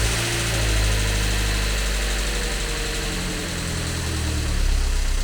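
A Mazda MX-5 engine with an automatic gearbox fitted runs steadily at close range, a continuous low mechanical drone with slight vibration and faint knocking that holds level throughout.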